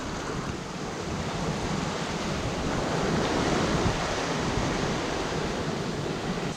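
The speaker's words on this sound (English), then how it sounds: "Just love the sound of that water going past the hull, especially down below." Steady rushing water streams past the hull of a Hallberg-Rassy 54 sailing yacht under way on the Chesapeake, a continuous broad hiss and wash heard from below deck with no talk.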